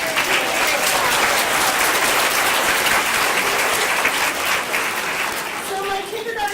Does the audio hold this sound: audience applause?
yes